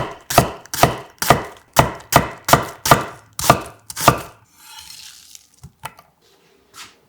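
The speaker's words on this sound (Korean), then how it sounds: "양파 큰거 1개를 살짝 굵게 채 썰어 준비하고" A large onion is sliced into thick strips with a knife on a cutting board: about nine crisp, evenly spaced chops, close and loud, followed by softer shuffling and a few light taps.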